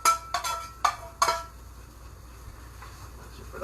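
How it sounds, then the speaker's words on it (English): Mushrooms tipped into a cooking pan with rice and peas nearby, giving a few sharp clinks and clatters of metal and utensils in quick succession before a quiet stretch and one last knock, close by, no voices. "dump them into the pan."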